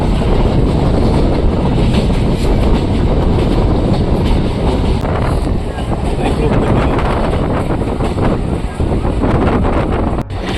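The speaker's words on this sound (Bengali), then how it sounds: "এখন রানাঘাট ট্রেন ঢুকছে" A local train pulling into Ranaghat station, a loud continuous rumble and rattle of carriages with heavy wind buffeting the microphone throughout.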